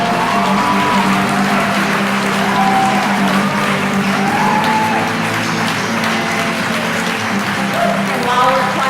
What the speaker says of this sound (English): And while we're clapping, the parents can line up and get ready to come up.